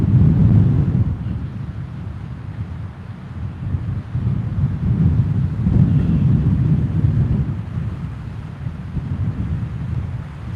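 Strong gusting wind on a cold Lake Superior shore in Duluth, Minnesota, buffeting the microphone with a heavy low roar that swells and eases in waves, loud and close throughout.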